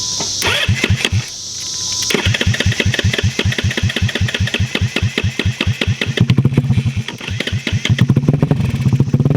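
A truck engine cranks, catches and settles into a loud, lumpy idle with rapid regular firing pulses, then briefly rises in pitch when throttled, close to the listener.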